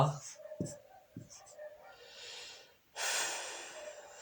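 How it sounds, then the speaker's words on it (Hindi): Someone writes out a sentence by hand: faint, quiet scratching strokes, then a longer, louder stretch of writing near the end, with soft breaths and small sounds in between. "तो यहाँ पर मैं सेंटेंस लिखता हूँ"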